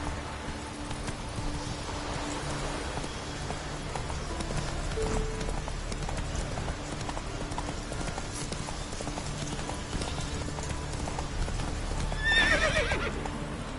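Roach, a horse in The Witcher 3: Wild Hunt, gallops with steady rhythmic hoof clip-clop close by, broken by a whinny and a louder neigh near the end; no talk.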